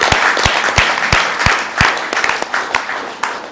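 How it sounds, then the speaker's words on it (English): An audience at a social business design workshop breaks into applause, a dense bright wash of clapping with a few heavier claps thudding through it at an uneven beat, loud and close for a few seconds. "Let's give a big round of applause."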